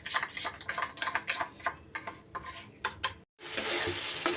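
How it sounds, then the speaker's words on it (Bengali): Spices and Kashmiri chili powder being beaten together in a bowl make rapid, irregular clicking and scraping taps. After a brief silence, a denser, steady rustle follows. "এবার এই উপকরণগুলো একটু সুন্দর করে ফেটিয়ে এইভাবে বাটির মধ্যে মিশিয়ে নিচ্ছি।"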